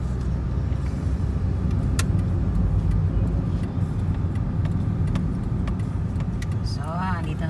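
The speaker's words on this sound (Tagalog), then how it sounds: "Pero maraming sasakyan dito, no?" Steady stream of cars on a busy road, a continuous close rumble of engines and tires with brief passing swells, a sharp click around the middle and a short warbling tone near the end; people talk faintly underneath.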